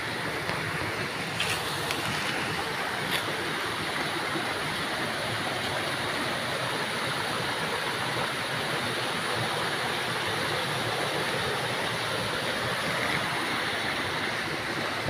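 The waterfall at Maslog Falls in San Silvestre, Pilar, Capiz gives a steady, broad roar of rushing water, constant throughout with no voices over it.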